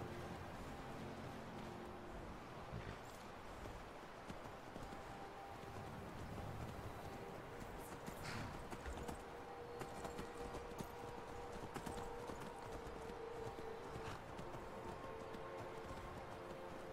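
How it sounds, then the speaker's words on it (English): A horse gallops and neighs in a modded Skyrim Special Edition game. Quick, dense hoofbeats run steadily through a broad wash of outdoor ambience, with a neigh standing out near the middle. "Call your horse."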